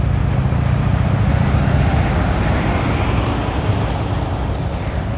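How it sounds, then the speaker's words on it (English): A lead pace car drives ahead of runners at the 2024 Marine Corps Marathon, a steady engine and road rumble blended with broad outdoor traffic noise, fairly loud and continuous. "There's the lead car, the pace car."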